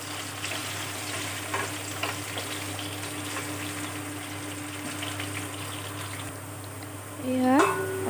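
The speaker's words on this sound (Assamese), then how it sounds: "সেইখিনি তেলতে এতিয়া মই কাটি ৰখা আলুখিনি ফ্ৰাই কৰি ল'ম।" Cut potatoes fry in hot oil for an Assamese fish curry, a steady broadband sizzle holding throughout at moderate level, with a short rising tonal sweep near the end.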